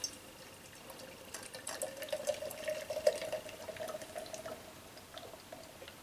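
Half Acre Tuna Extra Pale Ale poured into a glass, a soft, close gurgling trickle that swells mid-pour and then tapers off.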